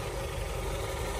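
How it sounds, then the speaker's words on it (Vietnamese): A Chevrolet Captiva with a 2.4 engine idles smoothly and steadily with a low, even rumble, heard up close without any talk. "Máy nổ siêu êm luôn. Các bác nghe tiếng máy chưa"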